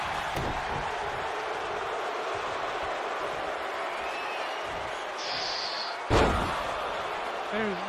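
A door slams once with a sharp loud bang at a wrestling match, rising above a steady crowd roar and scattered voices.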